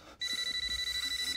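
A cell phone in a short film rings with a rapid, pulsing electronic trill, steady and close, heard on its own after a brief pause.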